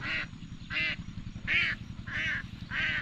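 Ducks being herded quack in five loud, evenly spaced bursts close by, over a low continuous rumbling background, with no talking.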